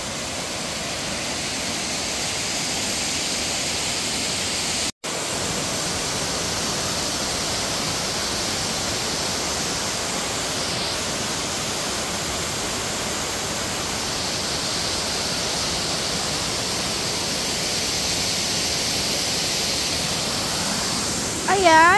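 Thousand Layers Waterfalls on Lantau, Hong Kong, give a constant, close, full roar of falling water with no pauses. A brief voice breaks in at the very end.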